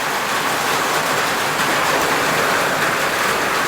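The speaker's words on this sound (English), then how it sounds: "And here comes the rain." Steady rain pours down outdoors during a car gearbox installation, a dense, unbroken hiss that stays loud and even throughout with no voices.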